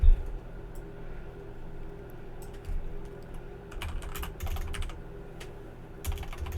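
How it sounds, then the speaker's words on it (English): Switch configuration commands for VLAN trunking get typed on a computer keyboard in irregular clusters of crisp, close keystrokes over a steady low hum, with quiet gaps between flurries. "If you type in cap, if you don't want to write the whole word, you can just press tab."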